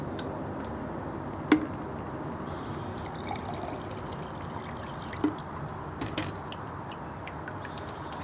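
Water is poured from a small amount into a container of oil, a faint trickling with a couple of soft drips, quiet and close with no talking.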